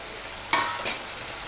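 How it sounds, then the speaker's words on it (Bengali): A spice paste of cumin and coriander powder sautés in a pan for a pomfret fish curry, with two short bursts of sizzling rising over a steady low hiss. "মশলাটা কষানোর জন্য আমি একটুখানি করে জল দিয়ে দিলাম"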